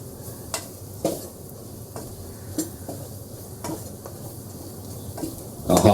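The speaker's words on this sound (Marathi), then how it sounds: "चांगले मसाले ना आपण ह्या परतून घेऊया व्यवस्थित" Spices sautéing in oil for a lotus stem curry, a low steady sizzle broken by sharp spoon taps and scrapes against the pan, close by with no voices.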